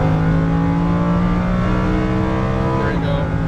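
A Lamborghini Huracan LP610-4 accelerates hard on a track, its engine note droning loud and close with steady harmonic tone, then dropping briefly as it shifts near the end.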